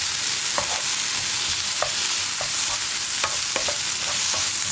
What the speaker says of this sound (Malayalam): ഈ തക്കാളി നന്നായിട്ടൊന്ന് കുക്കായി വരുന്നത് വരെ ഇളക്കി കൊടുക്കുക